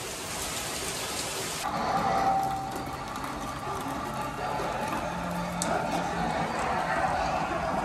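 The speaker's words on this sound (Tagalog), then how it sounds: "So, ulan man ta." Rain falls outdoors on Mtatsminda mountain in Tbilisi, Georgia, a steady broad patter and hiss with a fuller gust of sound early on, heard under occasional background voices.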